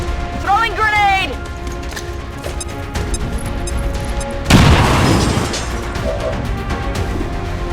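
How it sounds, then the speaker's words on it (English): Grenade explosion in the XCOM tactical video game, a loud crashing burst midway through amid game sound effects and voiced squad callouts. "Throwing grenade!"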